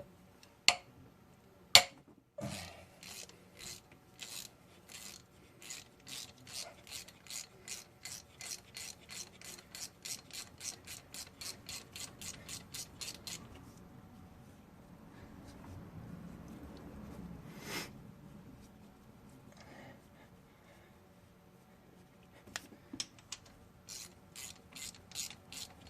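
A 16mm ratchet clicks rapidly against the timing chain gear of a 2006 Cadillac CTS 2.8L, a long run of close, crisp pawl ticks in steady strokes, then quieter handling and a few final clicks.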